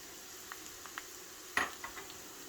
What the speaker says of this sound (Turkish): Ve havucumla da birlikte şöyle birkaç dakika kadar kavuracağım.